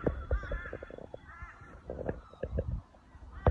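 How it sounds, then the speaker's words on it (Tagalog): Several crow-like caws and bird calls sound at a moderate distance, scattered irregularly over a quiet outdoor background in a residential area in Australia. "Ingay ng mga ibon, no?"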